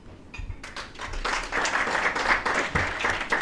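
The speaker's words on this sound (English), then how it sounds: "A round of applause for the IG." Audience applause at a meeting on election security preparedness with the Inspector General of Police, steady dense clapping building from a few claps into a full, sustained round.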